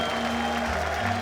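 An audience applauds for Steve Madden in a steady wash of clapping with a faint crowd murmur and a held musical tone underneath, lasting about a second.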